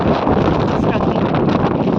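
Strong wind blowing outdoors in France, a steady loud roar buffeting the microphone throughout with no clear breaks, overlapping faint talk underneath.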